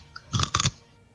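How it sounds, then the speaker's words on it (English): Crunchy chewing of food, close and fairly quiet: a couple of crisp bites in quick succession, then soft low background. "if you hear that crunchy noise, that's Dylan, not me."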